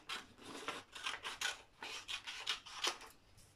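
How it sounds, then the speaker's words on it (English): Scissors cut paper strips along a fold line in a run of quick, close snips and rasps, about a dozen crisp cuts in uneven rhythm, quiet and with no talking. "I'm going to cut the strips along the fold line"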